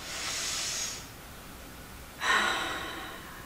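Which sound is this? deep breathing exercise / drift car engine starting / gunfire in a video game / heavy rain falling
deep breathing exercise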